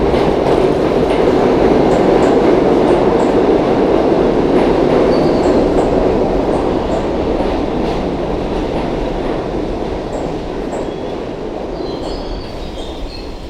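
A New York City subway train on the 6 line, running loud and close with continuous wheel rumble and rattling clatter over about thirteen seconds, fading slightly toward the end, with no voices.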